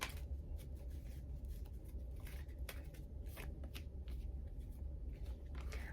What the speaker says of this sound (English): I'm actually feeling guided to pull a couple more cards here.